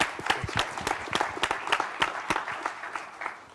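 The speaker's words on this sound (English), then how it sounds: "Let's go ahead and give a round of applause for Todd." An audience at a leadership forum on digital marketing gives a round of applause, many hands clapping in a dense, steady burst with sharp individual claps standing out, fairly close and loud, then tapering slightly toward the end.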